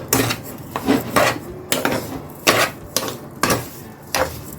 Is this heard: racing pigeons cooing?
no